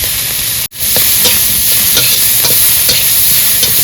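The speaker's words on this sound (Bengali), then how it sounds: "তেল গরম হয়েছে, এবার দিয়ে দেবো রসুন আদা কুচি, পেঁয়াজ কুচি আর লঙ্কা কুচি" Chopped garlic, ginger, onion and chili hit hot oil with a loud, continuous close-up sizzle and crackle, broken by a brief dropout near the start, with a few faint scrapes of stirring.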